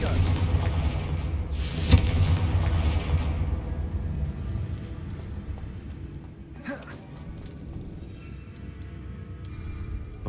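A booming magical blast from the Confringo spell in the fantasy game Hogwarts Legacy: one deep explosive thump early on, followed by a sustained low roar and rumbling debris. A faint sharp crack comes later.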